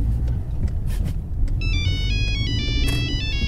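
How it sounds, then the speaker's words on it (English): A phone's ringtone plays inside a thriller/horror video game, a repeating electronic melody starting partway through over a loud, low rumbling backdrop, clear and fairly prominent. "Pick up the phone, dude!"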